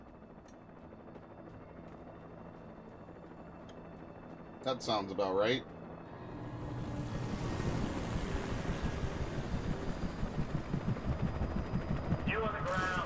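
Helicopter rotor thudding in the video game Alan Wake Remastered, a rising rhythmic chop that swells in after a brief burst of noise, with someone speaking over it.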